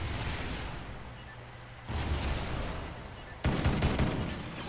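Call of Duty gunfire crackles in short bursts, with a louder, denser volley near the end, alone without talk.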